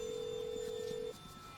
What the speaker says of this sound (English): I got a phone call right now.